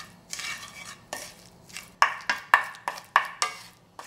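A spoon stirs mayonnaise and sugar together in a bowl for corn cheese, making a close series of rhythmic scraping, clinking strokes that quicken toward the end, with no talk.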